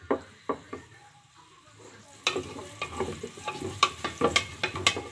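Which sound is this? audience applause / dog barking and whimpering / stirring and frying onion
stirring and frying onion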